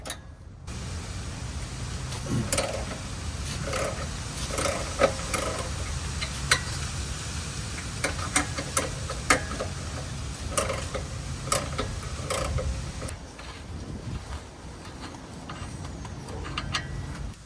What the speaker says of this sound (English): It's going to take an 18. I got the 18 ratchet wrench here.